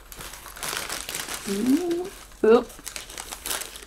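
A paper takeaway bag from a Berlin café counter, its paper already slightly soaked through, crinkles and rustles as it is handled and opened, with a sharper crackle near the end. A person talks briefly over the rustling.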